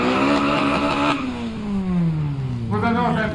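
A light B18-engined drag car with 260 PS races a Golf 5 GTI on a quarter-mile strip, engines roaring loudly and close while a falling gear-change whine sweeps down and then climbs again.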